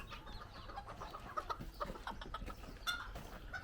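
Chickens cluck nearby on a ranch, scattered short clucks and chirps over a low background rumble, with no talking.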